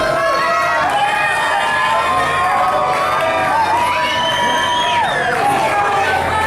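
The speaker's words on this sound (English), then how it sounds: "This crowd trying to will Matt Fury back in this thing" A wrestling crowd at a live televised match roars and cheers steadily throughout, loud and continuous, with commentary voices running over the noise.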